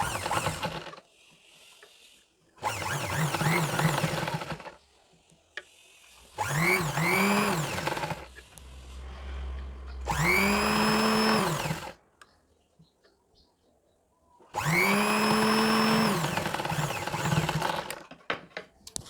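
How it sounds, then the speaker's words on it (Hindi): A domestic sewing machine stitches zigzag along folded old sweater fabric, running in several loud, steady whirring bursts of a few seconds each, separated by short pauses. "यहाँ पर मैंने जिगजैग कर लिया है क्योंकि मेरी मशीन में जिगजैग की सुविधा है।"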